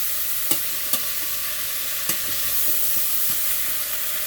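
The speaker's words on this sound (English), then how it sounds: "And as you can hear, they are sizzling." Green beans sizzle steadily in a hot pan, a constant hiss with a few sharp clicks and scrapes from stirring.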